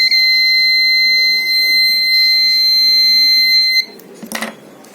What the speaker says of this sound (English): As the flame detected, the buzzer is open, and if there is no flame, the buzzer is off.